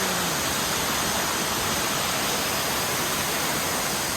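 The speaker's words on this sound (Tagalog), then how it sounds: "Nice falls." Steady broadband roar of a waterfall at a British Columbia lookout near a river, a constant dense wash of falling water with no breaks, fairly loud and filling the whole clip.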